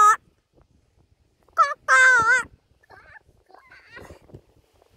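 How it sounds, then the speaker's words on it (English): An unidentified bird call, a few harsh, warbling squawks outdoors in a short burst, close and fairly loud against near silence, with faint rustling after. "What sort of bird is that? It's not a willy wagtail."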